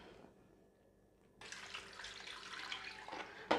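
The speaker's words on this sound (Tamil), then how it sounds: "இப்போ தண்ணியை ஊற்றி வாஷ் பண்ணணும்." Water is poured over chicken pieces coated in turmeric powder to wash them, starting after a quiet moment as a steady splashing, running stream, fairly close, ending in a sharper splash.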